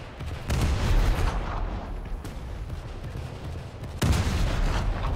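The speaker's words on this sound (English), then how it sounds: "Japanese destroyer, we're going to get some fire out onto him." War Thunder naval combat against a Japanese destroyer: heavy ship guns fire in two loud booming salvos several seconds apart, each followed by a rumbling roar that fades slowly, close and dominant with no talking.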